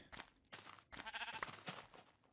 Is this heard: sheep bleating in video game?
yes